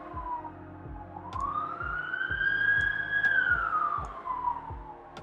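A distant emergency vehicle siren outside wails in a slow rising and falling sweep, moderately faint, over a low rhythmic thumping in the background.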